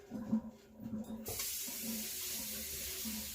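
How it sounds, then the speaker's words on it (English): Parboiled potatoes are drained into a kitchen sink: after a soft, low clatter, a sudden loud, steady rush of pouring water begins about a third of the way in and keeps going, close by, with no talk. "Let's go drain the potatoes."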